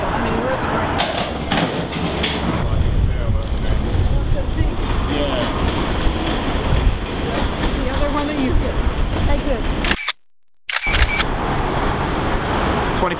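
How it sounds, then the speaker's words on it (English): A train rumbles steadily around a bend, with continuous wheel and track noise and rattling carriages close by, briefly cut out near the end. "the trains going around the bend now"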